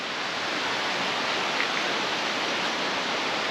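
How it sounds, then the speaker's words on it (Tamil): Beeman Falls in the Jawathu Hills of the Eastern Ghats, Tiruvannamalai, Tamil Nadu, pours in a constant, dense rushing roar of falling water, steady and unbroken throughout. "கிட்டத்தட்ட கிழக்கு தொடர்ச்சி மலையில் இப்படியும் ஒரு அருவி இருக்குது"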